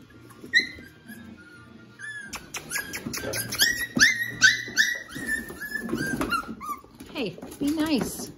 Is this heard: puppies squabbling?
yes